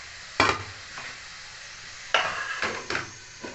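Onions and mutton frying in a pan, a soft sizzle broken by several sharp scraping stirs of a utensil against the pan, four distinct bursts spread unevenly, with no talking.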